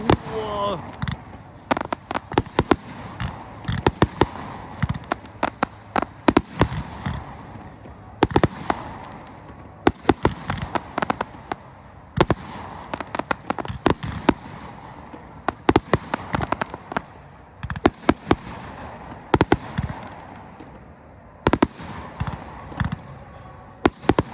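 Small firecrackers and fireworks pop and crackle on a StoneX launcher in bursts of rapid sharp bangs with gaps between volleys, fairly close and loud, with people talking faintly in the background.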